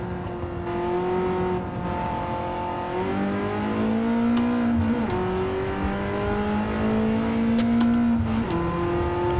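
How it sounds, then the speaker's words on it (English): A race car in Gran Turismo 7 downshifts and brakes, its engine note stepping up and down through the gears in a steady, loud whine that runs continuously with no talk over it. "Downshifting there. Too much braking."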